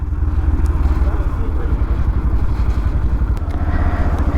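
A motorcycle engine runs with a steady, close, rumbling drone and no pauses, while someone talks over it on a road near a temple.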